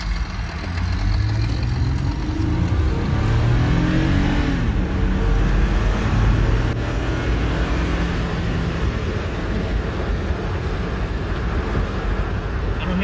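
A Dodge Charger Scat Pack with a 6.4 liter engine and long tube headers drives with the windows down, giving a deep, loud, continuous engine rumble that swells under acceleration, with wind buffeting layered over it.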